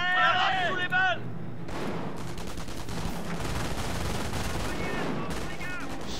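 Hull-mounted machine gun fire in the Company of Heroes Tales of Valor game, loud rapid bursts and battle noise running throughout, with a voice speaking over the opening second.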